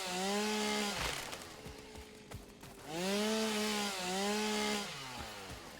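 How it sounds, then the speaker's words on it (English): A chainsaw cutting trees runs close and loud, its engine pitch rising and falling through revving surges with a brief idle dip in the middle, heard alone without talk. "I'm trying to talk over the chainsaw"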